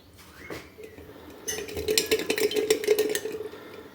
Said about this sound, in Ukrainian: Закриваємо ми це кришкою